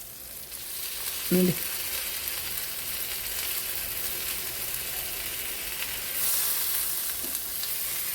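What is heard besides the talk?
Kallur fish frying in hot oil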